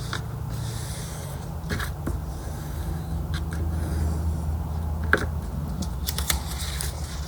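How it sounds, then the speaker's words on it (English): A piece of paper being folded for a handmade window envelope made from junk mail, with soft rustling and crisp creasing scrapes in short bursts over a low steady hum, close and quiet. "we just have to fold a piece of paper like this"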